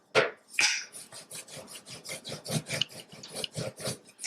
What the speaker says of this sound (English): start rolling it with your rolling pan like this